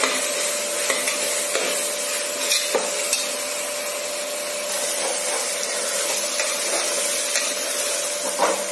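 A ground spice paste for tomato biryani fries in oil with a soft, continuous sizzle while a spoon stirs it, leaving light periodic scrapes and taps against the pan, close and steady throughout.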